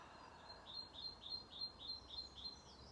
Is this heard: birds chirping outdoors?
yes